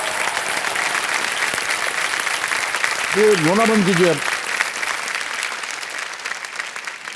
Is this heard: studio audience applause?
yes